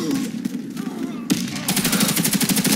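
Rapid automatic gunfire in the online shooter game Warface, a dense burst of repeated shots after a loud single blast, close and loud, with a voice talking briefly underneath.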